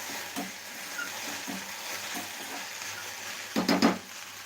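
Okra frying in a covered pan is stirred now and then, giving a steady low sizzle with faint scraping strokes and a louder burst of stirring near the end.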